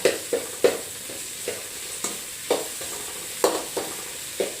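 Vermicelli stirred and roasted in a pan, a spatula knocking and scraping the pan in a series of sharp taps over a soft, steady sizzle, close by and without talk.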